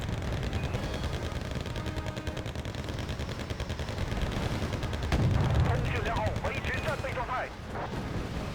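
Tank gunfire rings out in the Wargame strategy video game as a T-72 comes under fire, with repeated close gun blasts and rumbling booms layered over game noise while someone talks.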